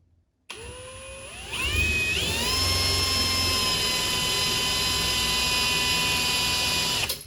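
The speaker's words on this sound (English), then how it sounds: "So I'm gonna go ahead and drill these holes." A power drill whines up to speed and holds a steady high-pitched spin for several seconds while drilling holes in a cabinet door, loud and close, then cuts off.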